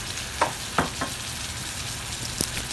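Mixed seafood with oyster sauce and chilli garlic sauce is stirred in a hot pan, a steady close sizzle punctuated by a few sharp utensil clacks against the pan.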